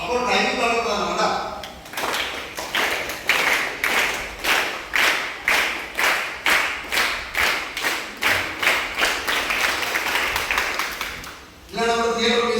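A group of children at a theatre workshop clap in steady rhythm, keeping an even beat of loud, evenly spaced claps for about ten seconds, with voices heard briefly at the start and end.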